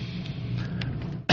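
A single short cough or throat-clear bursts out near the end, close and abrupt, after a stretch of low background hum on a talk radio show.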